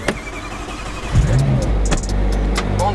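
A McLaren Senna's engine starts with a sharp low crank and catch, then settles into a deep, loud idle, close by, with a few brief clicks over it.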